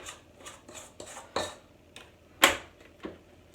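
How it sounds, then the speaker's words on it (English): A spoon scrapes and taps against a mixing bowl of banana loaf batter, a series of short close clinks and scrapes with one louder knock, no voices. "Just scrape that spoon off there."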